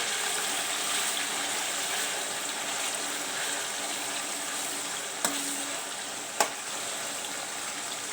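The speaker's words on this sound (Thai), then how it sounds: "เดี๋ยวเราจะทอดไว้ให้หมูสุกนะคะ" Pork frying in oil in a pan over medium heat gives a steady, even sizzle throughout, fairly quiet and close, with a couple of brief clinks near the end.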